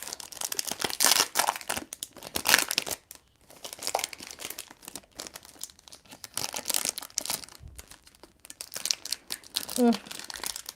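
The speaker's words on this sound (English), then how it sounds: "Let's get the old cellophane off." Cellophane wrapping being torn off a fragrance box, with repeated close crinkling and crackling bursts separated by brief pauses, alongside intermittent voice.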